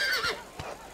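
A horse gives a short, high neigh that trails off, followed by a few soft thuds, heard fairly close with no talking.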